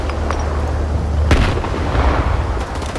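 A grenade in Stalker 2 bursts with a heavy, booming blast that rumbles low and fades over a few seconds amid game ambience.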